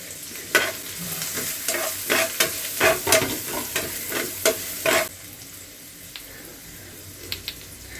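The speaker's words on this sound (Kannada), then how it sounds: "ಇವಾಗ ಸಣ್ಣ ಸೈಜ್ದು 2 ಈರುಳ್ಳಿ ಕಟ್ ಮಾಡಿ ಇಟ್ಕೊಂಡಿದ್ದೆ, ಅದನ್ನ ಸೇರಿಸ್ಕೊತಾ ಇದ್ದೀನಿ." Chopped onions sizzle in a hot pan while a spoon repeatedly scrapes and stirs them in irregular bursts, then the frying continues quietly on its own, with no voices.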